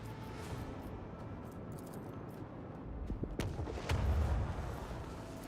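Gunfire and heavy booms ring out during a battle in the Warhammer 40,000: Rogue Trader video game, with a fairly quiet run of shots that swells into louder, denser blasts toward the end.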